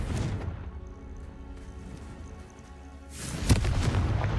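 A Confringo spell blast in Hogwarts Legacy on PS5 lands as a deep booming explosion with a rumbling tail, followed by a second sharp burst near the end over continuous game ambience.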